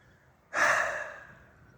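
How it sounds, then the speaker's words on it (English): A single heavy, breathy exhale from a person walking to work on a hot morning, close to the mic, bursting out suddenly and trailing off over about a second against near silence. "Huffing and puffing."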